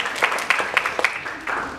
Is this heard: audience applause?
yes